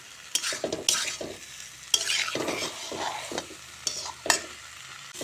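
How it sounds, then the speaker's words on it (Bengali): Fried cauliflower and potatoes being stirred into a spice masala, the spoon scraping the pan in repeated strokes over a steady sizzle, close and fairly loud, with no voices. "ফুলকপি আলু দিয়ে এখন মশলার সঙ্গে ভালো করে মিশিয়ে নেব"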